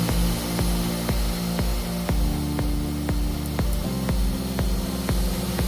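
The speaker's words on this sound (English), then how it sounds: "hey Google, turn on the spindle" CBS 500W 12000 rpm spindle motor running steadily with a constant whine, marked by a regular ticking pulse at roughly two beats a second, fairly quiet and alone.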